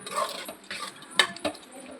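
A spoon scrapes and clinks against a pot while chicken biryani marinade is mixed with oil, giving a few short, close metallic taps and soft scraping strokes over about two seconds.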